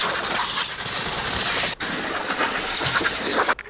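Compressed air hisses in a steady, loud broadband blast while blowing out a car's engine bay at a repair shop, briefly cutting off near the middle and again at the end.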